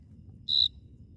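A single short, bright cricket chirp sounds at night, brief and clear against a low background hum, with no voices.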